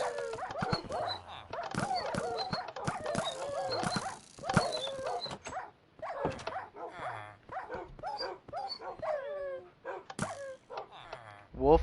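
Minecraft wolves barking, yipping and whimpering in a rapid, overlapping stream, close and fairly loud, with short pauses between bursts and a voice talking faintly underneath.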